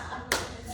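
A single sharp hand clap close by, followed by a second clap just at the end, over a quiet room.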